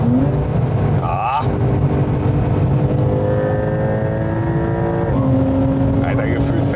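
A Porsche Turbo accelerating hard on track, loud engine heard from inside climbing in pitch through several gear changes with abrupt drops at each shift, under a steady low road rumble, with brief voices.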